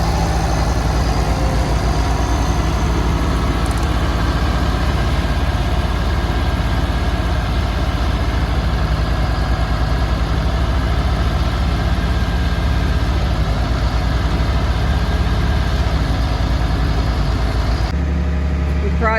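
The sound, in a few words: tractor engine idling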